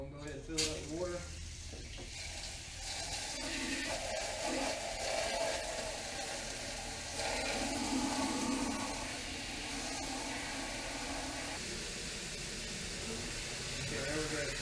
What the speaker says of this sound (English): We're going to go ahead and fill it up with water.